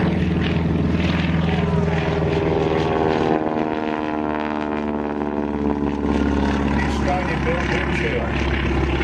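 A Harvard propeller training aircraft flying past at an air show, a loud droning engine and propeller roar that rises and sweeps with a Doppler shift as it passes, with a voice talking over it.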